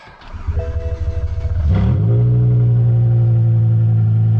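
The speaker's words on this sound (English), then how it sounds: "when I start the car up" A BMW M5 E60 V10 engine, with a faulty throttle actuator, cranks and catches, then revs up and settles into a loud, steady running drone.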